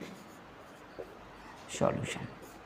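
Someone writes out a solution on a classroom board during a physics lesson: a few soft, brief scratching strokes, with a louder cluster near the end, heard under and between talk.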